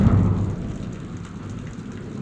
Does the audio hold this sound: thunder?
yes